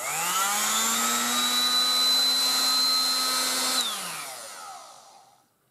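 A motorised 1960s Dateline DLMD vintage hairdryer whines loudly with a steady high-pitched tone and airy rush, then winds down and fades to silence as it is switched off.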